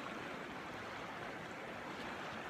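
The Trebbia river rushes steadily over rocks on a warm, sunny day, a close, even wash of flowing water with no voices.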